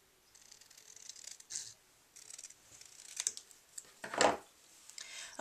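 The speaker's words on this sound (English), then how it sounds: "And then I'm going to cut that out." Scissors cutting paper and cardstock for a beehive-shaped birthday card, heard as several short, close snips and crisp rustles spread across a quiet tabletop setting.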